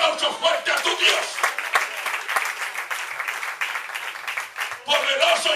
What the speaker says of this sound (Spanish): Dale el aplauso fuerte a tu Dios.